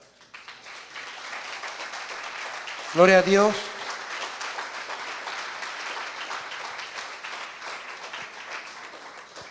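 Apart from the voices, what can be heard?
congregation applause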